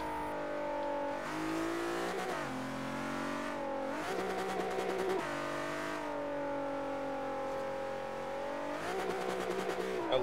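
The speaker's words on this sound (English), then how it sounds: "I love the sound of the rev limiter in this car." A drift car in Forza Horizon 3 holds its engine on the rev limiter through a slide, a loud buzzing stutter that keeps rising and dropping in pitch as the revs bounce off the cutoff.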